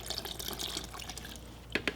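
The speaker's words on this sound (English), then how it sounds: "Just add the water I need." Water poured into Polyblend grout powder for mixing, a faint trickle and splash with scattered small drips, ending in a few sharper splashes close by.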